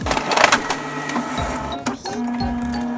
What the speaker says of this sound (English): print off actual physical dot codes onto printer paper